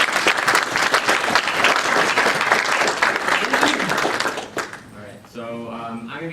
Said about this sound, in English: Quick round of applause for Chris.